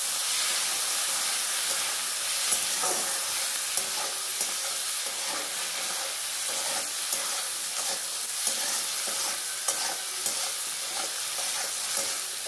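Tomatoes fry in a hot pan with a continuous close sizzle and hiss, broken by scattered scraping and tapping as a spoon stirs them around.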